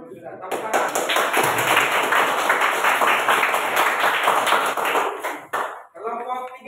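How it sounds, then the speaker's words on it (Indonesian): Students in a classroom clap for a group presentation, a steady burst of close, fairly loud handclaps lasting several seconds before thinning out, with voices following. "Tepuk tangan."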